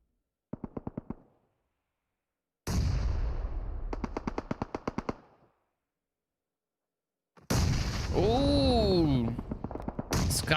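Automatic gunfire from a PUBG Mobile esports match: a short rattling burst, then longer sustained volleys with sharp repeated cracks, separated by silence, ending in a final burst with a rising whine and explosion-like rumble.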